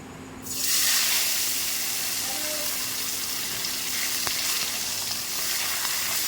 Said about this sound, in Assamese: এফালে কেৰাহী গৰম হ'ল, কেৰাহী গৰম হ'লত মাছকেইডোখৰ ফ্ৰাই কৰি লৈছোঁ।